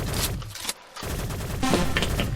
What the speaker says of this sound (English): why are we jumping and shooting the crack shot?